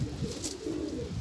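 Domestic pigeons in a loft coo softly and repeatedly, a low, steady murmuring that runs through the whole moment, with no voices over it.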